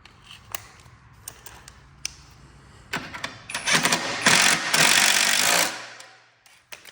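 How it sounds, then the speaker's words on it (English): A few sharp clicks and taps, then a small power drill whirs in a rising burst for about two seconds before winding down, close by, during work on a Toro 30-inch walk-behind mower. "find our little drill here."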